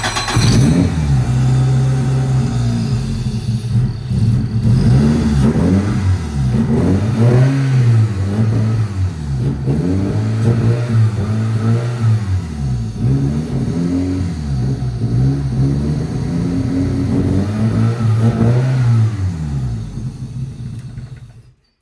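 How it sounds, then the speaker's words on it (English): A Toyota 3S-GE Beams engine swapped into a 1981 Starlet KP61 runs loud and close for about twenty seconds, with repeated rising and falling revs over a steady rumbling idle, not yet running smoothly. "And now start the motor."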